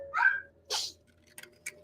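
A single sharp sneeze bursts out, followed by a softer, breathy second sneeze and a couple of faint clicks in an otherwise quiet room.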